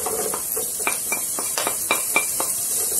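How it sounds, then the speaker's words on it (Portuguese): Chopped onion goes into a pan of sautéing garlic, a soft, steady hiss of frying with a series of light, rhythmic utensil taps and scrapes, close and moderately loud. "Aí é que eu já refoguei o alho, tá? Vou colocar agora a cebola."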